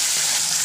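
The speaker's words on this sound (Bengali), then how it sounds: "প্রথমেই মাছ ভাজতে বসিয়ে দিচ্ছি।" Fish frying in hot oil in a pan, a steady loud hiss and crackle of spitting oil with no pauses.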